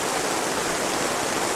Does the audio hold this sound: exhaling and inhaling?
no